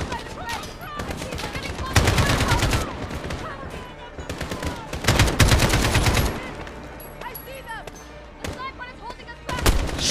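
Bursts of heavy gunfire and sniper shots in Call of Duty: Modern Warfare (2019), loud clusters of rapid shots separated by quieter stretches, with a player's voice speaking over the action.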